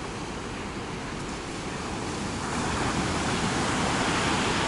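Sea waves washing onto a beach in Alanya, Turkey, a steady broadband roar of surf that grows slightly louder midway, heard alone without voices.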